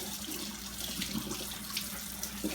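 Running water pours steadily from a kitchen tap as collard greens are rinsed on both sides, a close, continuous splashing hiss with small bumps and drips, no talk over it.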